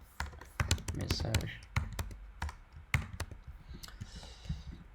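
Computer keyboard keys clicked in quick bursts during a Rust coding session, sharp taps close to the microphone mixed with someone talking over them.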